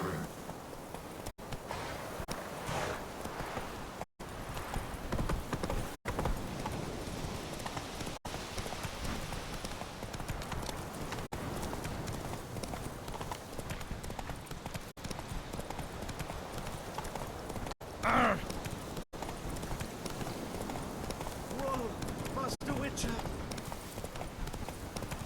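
Roach the horse clip-clops steadily along in The Witcher 3, a continuous rhythmic trot of hoofbeats with faint rain-like patter, while a person talks over it.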